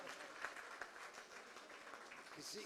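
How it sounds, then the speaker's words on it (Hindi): Audience applause for Zahid Shah at a Press Club tribute reception, a steady wash of clapping from a crowd lasting the whole moment, moderately distant and even in level. "भरपूर तालियां जाहिद शाह को"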